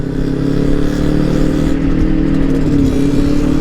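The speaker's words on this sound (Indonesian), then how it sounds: "Suara khas daripada motor 2 tak itu, aduh, merdu banget." A two-stroke motorcycle engine runs loudly and close in a steady, buzzy drone with a slight rise in pitch toward the end.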